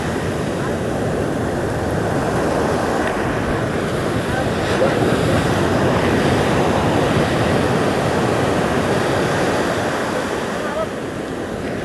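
Ocean waves breaking on a remote beach at the southern tip of Java, a loud continuous roar of surf with wind buffeting the microphone and people talking faintly.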